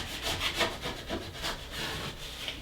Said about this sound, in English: take your scraping tool and you're just going to scrape over it, burnishing that down